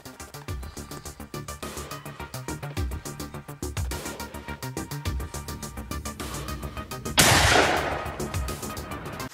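Rapid rhythmic pistol shots from a Glock 40 fire in a long steady string of sharp cracks, building to a louder burst near the end.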